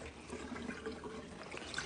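Water being gently squeezed out of a soaked knitted sweater, a quiet close wet squishing and trickling that continues steadily for a couple of seconds with no talking.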